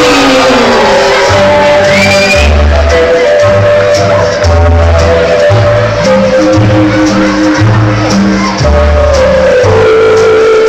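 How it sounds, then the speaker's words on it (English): Audience at a Butlins Skegness magic show shouting and whooping in welcome for magician Martin James, loud and sustained under booming music. "So please give a great big cheer."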